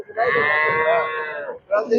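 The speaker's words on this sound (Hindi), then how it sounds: "किस तरीके से रंभा रहा है, चिल्ला रहा है" A young calf at a cow shelter lets out one long, loud, strained bellow up close, then starts a second cry, with other cattle nearby.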